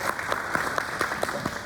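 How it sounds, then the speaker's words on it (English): Audience at an academic presentation session applauds a student group, brief, even clapping from a moderate-sized room with no talk over it. "let's give applause to Group 7 again"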